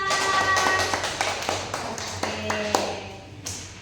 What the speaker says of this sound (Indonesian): tepuk tangan untuk yang di depan